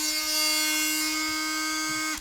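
A DeWALT oscillating multi-tool runs steadily at a constant high speed, a loud close buzzing whine that holds evenly for about two seconds and then cuts off as the trigger is released.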